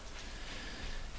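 Steady rain falling in the farming game Stardew Valley, an even hiss of drops that continues without a break and stays fairly soft.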